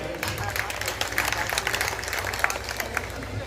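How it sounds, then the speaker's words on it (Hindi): A crowd applauds steadily throughout at a Hindi kavi sammelan (poetry gathering) at a mela in Maholi, India, with a voice speaking over the clapping. "तालियां बजा दीजिए"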